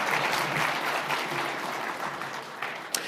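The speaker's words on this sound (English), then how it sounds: "How about another round of applause for Senator Dave McCormick?" Audience applause for Senator Dave McCormick at the Pennsylvania Leadership Conference, a dense steady ovation of many clapping hands that eases slightly toward the end, with one sharp clap standing out.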